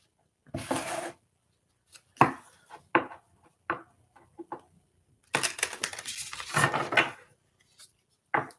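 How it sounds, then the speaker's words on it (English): Several short, crisp bursts of riffling and tapping, separated by pauses, then a longer dense flurry of fluttering card noise up close. "now I shuffle them."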